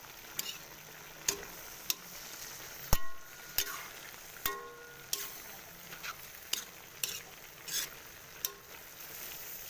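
A dish being stirred in a cooking pan, spatula scrapes and taps falling in an irregular run of sharp clicks over a faint, steady background hiss, close and moderately quiet.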